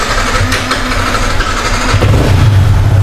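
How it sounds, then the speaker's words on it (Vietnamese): A Yamaha MT or 2018 R15 motorcycle running low on fuel cranks and catches, its engine settling into a loud, close idle at a motorcycle sale in Thu Duc. "Rồi, nổ máy đây."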